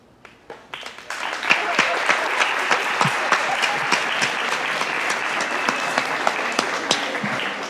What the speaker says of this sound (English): please stand up and give yourself a round of applause